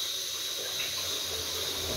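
Tap water runs steadily into a kitchen sink as a yam is washed before cutting, making a continuous, fairly quiet hiss and splash with no pauses.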